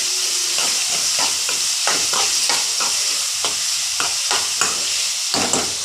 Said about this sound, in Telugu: ఉల్లిపాయ ముక్కలు బాగా మగ్గించాలి